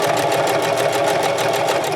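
A sewing machine runs continuously and loudly, stitching a seam around the curve of a scrub cap with a steady, fast mechanical whir and no break.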